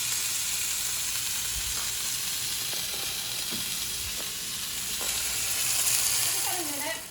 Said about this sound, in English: place the lamb on the cast iron skillet like this. And we're going to sear that for about a minute